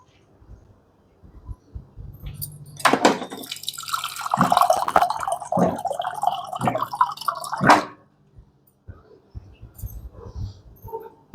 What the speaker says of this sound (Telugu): ఒక హాఫ్ గ్లాసు నీళ్ళు పోద్దామండి